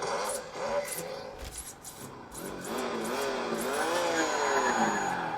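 A simulated engine rumble from a Meus Micro Sound Module in a mini RC vehicle, revving up and down in pitch with a continuous buzzy drone and faint squealing, with an exhaust brake effect.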